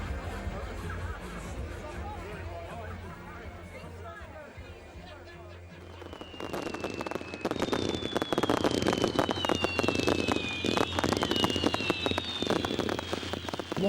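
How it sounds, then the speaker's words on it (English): Fireworks crackle and burst continuously at a farewell event for the Knowsley Road rugby league ground in St Helens. The popping is dense and rapid, with whistling rockets rising over the crowd's noise. "Fans gathered in the cold to enjoy the fireworks"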